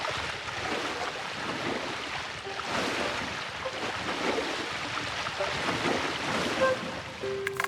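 Water is added to a landscape in the building game Tiny Glade, heard as a steady, soft rushing and lapping wash like gentle surf that runs throughout, with a few faint chime-like interface tones near the end.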